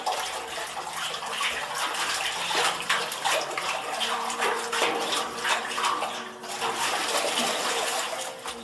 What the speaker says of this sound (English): I'm just going to stir this bentonite in the water just to blend it just a little bit more before we add the crush of the grape.